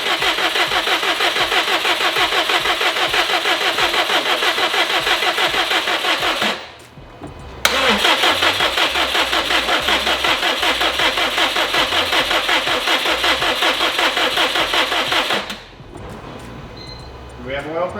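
A Subaru WRX STI with a failing battery cranks in a long, labored, rhythmic whir, pauses, then cranks hard again for several seconds, loud and close with no clear catch.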